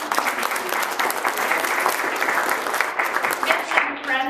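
An audience at a live show about Maria Anna Mozart claps steadily and densely, a fairly close, even round of applause that carries on to the end.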